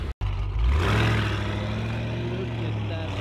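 A tuned Audi RS6 C7.5 fires up after a short silence, its engine swelling into a loud, close rev and then settling into a deep, steady idle, with someone talking nearby.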